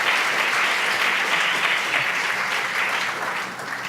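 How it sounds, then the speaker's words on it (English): Steady, full audience applause fills a New York screening venue after a documentary premiere, dense clapping sustained throughout and tapering slightly at the end, with no talking over it. "another round of applause for an amazing film"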